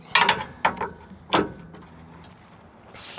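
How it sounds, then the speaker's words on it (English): Pry bar levering against a body mount on a Scout 80 in a shop, three sharp metallic clanks and scrapes close together early on, followed by quieter creaks and a faint rattle, with no talking. "I'll try and put the pry bar on it here."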